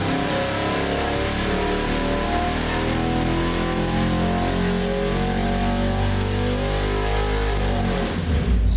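A Ford 408ci Windsor V8 on an engine dyno revs hard and holds a loud, sustained roar with rising and shifting harmonic tones, dropping away sharply at the very end.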